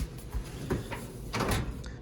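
A drawer slides open with a few rough scraping rattles, close by and fairly quiet.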